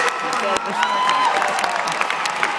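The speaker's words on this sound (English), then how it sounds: "Give yourself a round of applause, all of you." Comedy audience applauding and cheering in a theater, a dense, steady wash of clapping with whoops and a whistle, while a voice talks over it.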